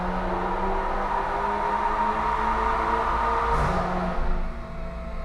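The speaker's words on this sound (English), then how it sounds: "Some car over there on the dyno." A car engine running hard on a dyno in a workshop, a continuous loud droning roar with steady tones that dips slightly near the end.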